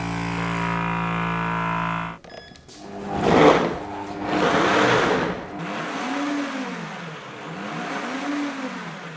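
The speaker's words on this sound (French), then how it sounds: "une fois que l'air est retiré, il y a un capteur dans la machine qui va déclencher automatiquement la fonction de mixage" Kuvings SV-500 vacuum blender with a power speed motor, first pumping air out with a steady hum, then cutting off and starting to blend with loud surging, whirring bursts and rising and falling motor pitch, alone and close.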